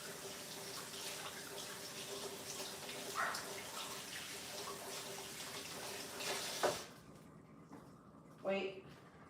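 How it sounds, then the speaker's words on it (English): A kitchen tap runs steadily while hands are washed, a close hiss that cuts off partway through, followed by a couple of brief splashes and knocks. Quiet talk is heard in the background. "I'm going to wash my hands first"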